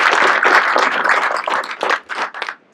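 Applause at a city council meeting, a room of people clapping steadily and fairly loud, thinning out into scattered claps toward the end.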